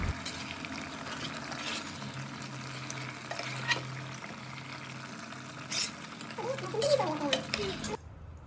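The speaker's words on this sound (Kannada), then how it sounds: "ಈಗ ಇದಕ್ಕೆ ನಾನು ಒಂದು ಸ್ವಲ್ಪ ಕಸೂರಿ ಮೇಥಿ ಹಾಕಿ ಮಿಕ್ಸ್ ಮಾಡ್ಕೊಳ್ತೀನಿ." Cooked chicken with kasuri methi being stirred in a pot for biryani, with scraping and clinking from a spoon against the metal, quiet and close, joined by a few louder knocks near the end.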